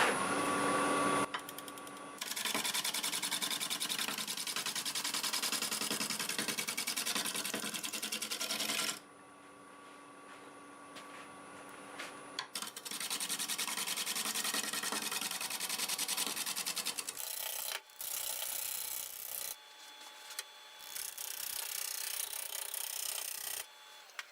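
Wood lathe scraper working an English walnut root ball with air gaps in it, a loud continuous rough scraping whir with chattering bursts that drop out briefly and resume, no voices.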